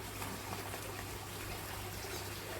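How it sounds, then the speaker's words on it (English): Water pours into an aquaponics sump, aerating it with a soft, continuous trickling gush that stays faint and even throughout, with no voices over it. "That is purely how I've got the water coming into the sump. It is aerating the water."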